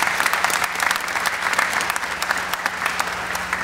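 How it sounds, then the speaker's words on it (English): Audience at a university Founders Day ceremony claps steadily, a full, sustained round of applause from a large crowd with a faint low hum beneath. "Let's give them a round of applause"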